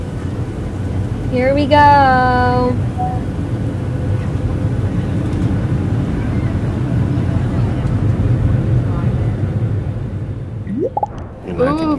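Steady low airplane engine drone runs the whole time inside a Roblox Bloxburg passenger jet during takeoff, with voices talking over it near the start and end.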